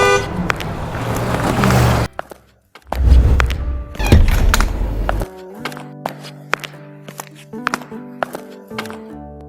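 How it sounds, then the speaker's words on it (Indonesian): A busy city street in an animation: loud, close traffic rumbles, then car horns toot and thumps mix with passing vehicles, all without speech. "Gedung-gedung tinggi, jalanan penuh kendaraan"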